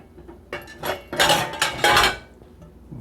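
Clean dishes and cutlery clink and clatter as a Danby DDW631SDB countertop dishwasher is unloaded, several close, bright rattling bursts of ceramic and metal that grow busier midway and then fade.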